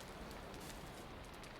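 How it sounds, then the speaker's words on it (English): Steady rain falling in the game Valheim, a dense, even hiss of drops on surfaces that continues without a break, soft and enveloping, with no voices. "because it's raining outside"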